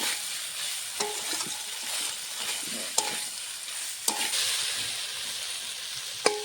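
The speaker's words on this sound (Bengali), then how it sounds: "সবজির সঙ্গে মশলাটা ভালো করে কষাবো" Fried vegetables sautéed with spice paste for a cauliflower curry with glass fish, producing a continuous bright sizzle and a few sharp spatula taps against the pan.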